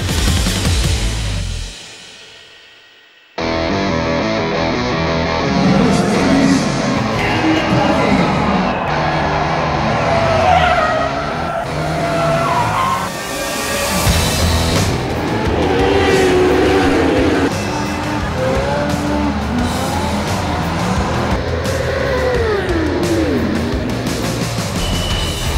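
Race cars at the grand finale of the 19th JK Tyre FMSI racing championship roar past loudly over a crowd, engines rising and falling in overlapping passes after a brief near-silent gap at the start.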